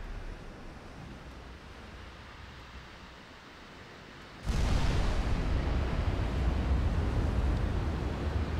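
Naval gunfire with high-explosive shells in Ultimate Admiral: Dreadnoughts, heard as a sudden loud, broadband roar that starts halfway through and holds steady after a quieter rumbling stretch, with no distinct separate shots.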